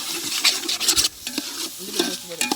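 Ginger-garlic paste frying in cold-pressed groundnut oil, a brief close sizzle with busy stirring and metallic scraping against the pan.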